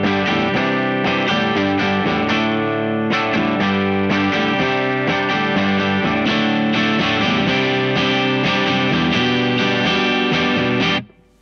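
A Vander Van Offset electric guitar with Tone Rider humbucker pickups played clean with no pedal, bright twangy strummed chords ringing loud and close before cutting off abruptly at the end.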